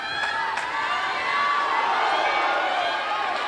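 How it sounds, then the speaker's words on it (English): Table tennis crowd at a women's singles match cheering for Sun Yingsha, a steady, dense roar of many voices with scattered whoops and shouts swelling slightly through the middle. "as you can hear from the crowd"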